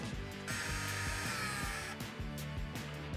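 A powered driver with a T15 Torx bit backs screws out of the mud flap on a 2020-2023 GMC Sierra HD, a short, close, whining motor buzz with stuttering pulses as the screw turns.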